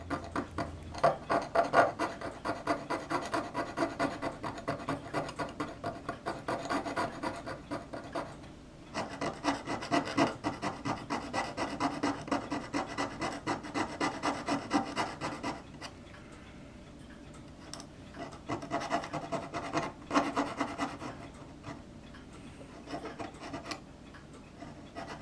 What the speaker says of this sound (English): I meant Chris's file, and just sort of do something with these pegs so that they fit better